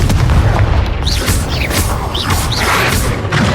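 Confringo spell blasts in Hogwarts Legacy hit with heavy booming explosions and crashes over a dense rumbling game soundscape, with a few whooshing magic effects between them.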